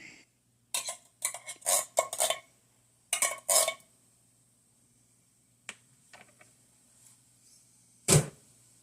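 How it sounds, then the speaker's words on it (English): A spoon scraping Manwich sloppy joe sauce out of a metal can: several sharp, quick clinks and scrapes come in clusters, close and clear, separated by quiet gaps and ending with one hard metallic tap. "So I grabbed a spoon and I'm going to dig out the rest that's not coming out."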